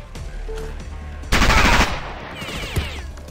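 Automatic gunfire bursts in the video game Jagged Alliance 2, one loud rattling volley of under a second followed by a single sharp report, set against steady game background noise.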